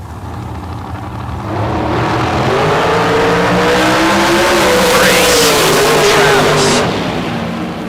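Drag race cars launch off the line at a bracket racing event, engines roaring loud and sustained with rising revs and a brief tire chirp, under crowd and announcer noise.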